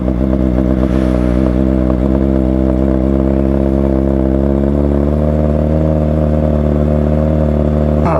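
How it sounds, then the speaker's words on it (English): A Kawasaki ZX-4R with an M4 Street Slayer straight-pipe exhaust, no catalytic converter or muffler, idles loudly and steadily up close, its deep throbbing drone holding nearly constant with a slight shift partway through. "M4 Street Slayer exhaust. No cat, no muffler. It's just fucking straight pipes."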